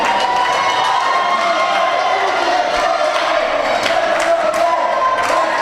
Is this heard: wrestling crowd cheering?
yes